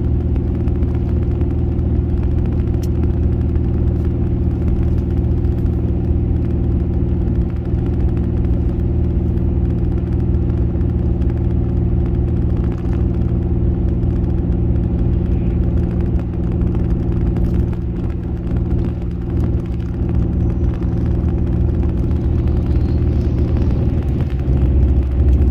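A 2022 Ram 2500 with a 6.7 Cummins diesel engine, locked in fourth gear at about 2,400 RPM while towing 16,000 lbs up a steep mountain pass, gives a steady, loud droning rumble from inside the cab with no talk.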